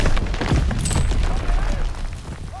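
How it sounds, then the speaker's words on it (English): In a Call of Duty WWII multiplayer match, a stun grenade is thrown and goes off with a loud, sharp concussive burst amid rumbling in-game battle noise, followed by fading crackles. "Throwing stun grenade!"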